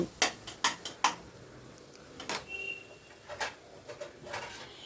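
Spice masala being stirred and fried in a pot for restaurant-style dal tadka, a spoon scraping and knocking against the metal in a quick run of sharp clinks, then softer intermittent scrapes over a faint sizzle.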